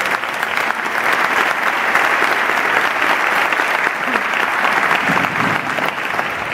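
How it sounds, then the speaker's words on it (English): An audience at a Rotary inauguration claps loudly and steadily, a dense, sustained wash of applause from the whole room with no gaps. "let's give them a round of applause"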